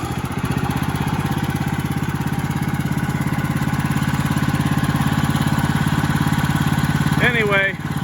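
A gas engine on a sawmill milling white oak runs at a steady, loud putter, then sputters and chokes near the end as it starves of fuel and dies.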